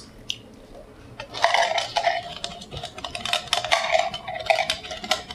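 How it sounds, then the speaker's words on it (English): Creamed corn, eggs and sour cream get mixed in a bowl, a utensil clinking and scraping against the bowl in quick irregular strokes, close and moderately loud. "Now we're going to mix it up."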